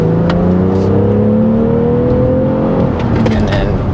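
A 2025 BMW X3 M50i in sport mode accelerates hard, its engine note climbing in a strong, loud rising drone that dips briefly near the end before picking up again.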